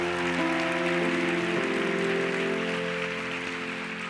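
Steady applause from a church audience, fairly faint and continuous under sustained music, with no talk.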